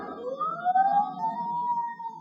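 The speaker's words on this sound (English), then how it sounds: "Sirens. Can't you hear them?" A police siren wails in an old-time radio detective drama, one rising and sustained tone swelling as it approaches, moderately loud and heard alone.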